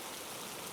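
Steady rain falls as a dense, even hiss with no breaks, with no voices over it.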